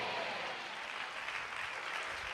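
A church congregation in Vijayawada clapping during a sermon: dense, steady applause from many hands, sustained and even throughout with no distinct individual claps, moderately loud and slightly distant.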